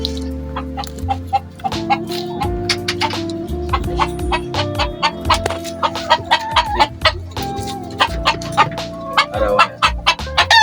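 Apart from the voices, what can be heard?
chickens clucking and rooster crowing at feeding time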